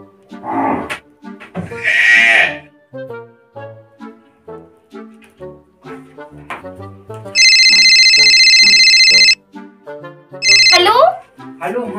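After a call is placed, a loud electronic phone ringtone sounds for about two seconds, then returns in a short burst, between stretches of speech and other vocal sounds in a Bundeli comedy sketch.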